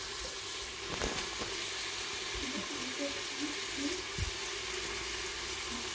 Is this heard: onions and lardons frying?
yes